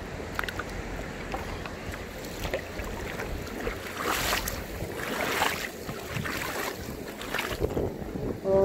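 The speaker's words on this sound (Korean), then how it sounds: "지금 바람이 많이 불고 있네요" Strong wind buffeting the microphone outdoors on a riverside stone-hunting outing after the rainy season, a continuous roar with louder gusts in the middle and end.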